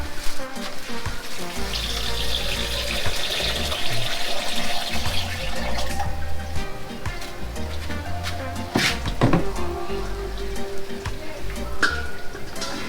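Tap water pours steadily and close into a blender jar while cooking curry french fry chicken in Jamaica, a continuous hiss with clunks and bumps, and a voice speaks briefly over it.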